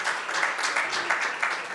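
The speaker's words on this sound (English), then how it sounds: "I think that deserves a round of applause" A workshop audience on wine tourism gives a brief round of applause, a steady, moderately close patter of many hands clapping with no speech over it.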